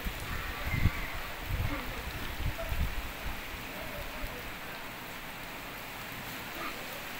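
Heavy, continuous rain falls in Pakistan, a dense steady hiss of drops on surfaces, with some low thumps early on and faint talk in the background.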